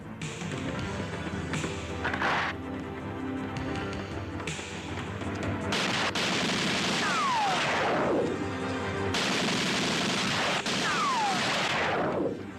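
Gunshots from an action film firefight, a series of loud, sharp bursts, some spaced and some in quick rapid clusters, with heavy echoing booms and debris, close and dominant with no talking.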